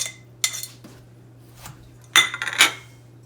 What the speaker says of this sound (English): put it with a tablespoon of sugar and melted butter, and you're going to mix that together